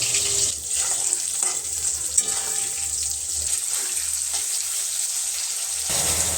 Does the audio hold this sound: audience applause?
no